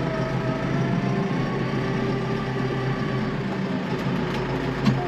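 A McCormick X5.085 compact tractor on a short drive, its engine a steady, low, even drone at a constant pace, heard from fairly close with no speech.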